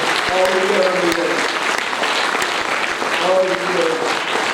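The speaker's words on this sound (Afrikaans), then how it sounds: "Klap vir die Here, gee hom al die eer." A church congregation claps in praise, dense sustained applause close by while singing voices carry over it and occasional sharper claps punctuate the steady wash.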